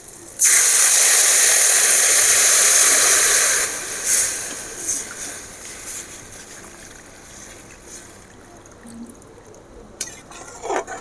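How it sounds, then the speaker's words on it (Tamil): Tamarind water pours into a hot pan of fenugreek rasam with a loud, sharp sizzling hiss for a few seconds, then settles into quieter bubbling and clinks. "இப்போ நம்ம இந்த புளி தண்ணியை ஊற்றிடலாம்"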